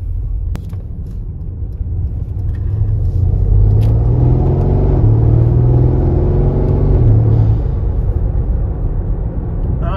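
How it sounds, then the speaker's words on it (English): A Mercedes GLC63 S V8 with a Uni-X ECU tune, custom dump pipes and intakes, running with exhaust valves closed in comfort mode: a loud, steady low rumble that swells briefly with a mild rev before settling back. "I will bump it into comfort now, which will close the exhaust and make it sound a little bit more sedate"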